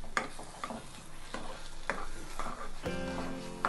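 Carrot halwa with ghee being stirred in a pan, repeated soft scraping strokes of a spoon against the metal over a faint sizzle, close and quiet.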